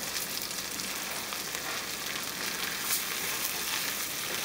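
Long grain rice fries in hot oil for Spanish rice, producing a dense, even crackling sizzle that holds steady and fairly loud throughout, with no voices.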